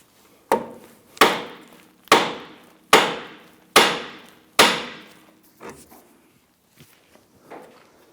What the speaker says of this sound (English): We're going to use a hammer and strike the knuckle here to go ahead and pop that out.